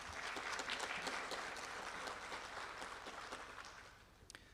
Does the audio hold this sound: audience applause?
yes